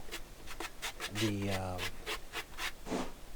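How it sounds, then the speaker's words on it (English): A 1/2-inch square-notch trowel scrapes and combs unmodified thinset mortar over a membrane for large-format wood-look plank tile, giving repeated rasping strokes up close, with a voice speaking over them. "then I go over and notch my tinset with my trowel"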